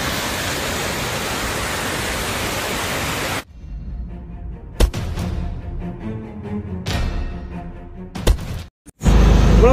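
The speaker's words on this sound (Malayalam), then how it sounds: "ആകാംക്ഷയോടെ നമ്മൾ പറഞ്ഞ ആ വെള്ളച്ചാട്ടം എത്തിയിരിക്കുകയാണ്. ഓക്കെ ഓർത്തടാ സൗണ്ട് കേൾക്കുന്നുണ്ട്" A waterfall over rocks at Anjarakandy in Kannur roars in the rain as a loud, dense, steady rush. It then cuts to quieter handling noises with a few sharp knocks.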